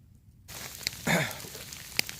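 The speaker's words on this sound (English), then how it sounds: "A little bit of sleet mixed in, but mostly rain." Rain mixed with a little sleet falls on a campsite with a tarp tent, a steady patter with a few sharper taps, heard up close.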